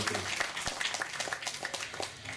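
A ceremony crowd at a dialysis centre anniversary event claps steadily, a dense wash of many hands that holds evenly through the short stretch with no voices on top.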